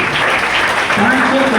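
Applause from an audience at a company business plan presentation comes as a dense, loud patter of clapping throughout, with a voice briefly heard near the end.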